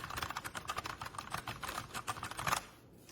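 Mechanical keys clatter in steady rapid typing on a Newmen GM610 60% wireless mechanical keyboard, moderately loud and close, a dense run of clicks that stops just before the end.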